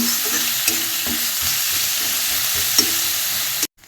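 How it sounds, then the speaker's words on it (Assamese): Chopped onions with ginger and garlic frying in hot oil with cumin for a fish curry, sizzling steadily while a spoon stirs and scrapes the pan with regular knocks, then the sound cuts off abruptly. "এতিয়া আদা নহৰুখিনি দিম, দি লৰাই দিম"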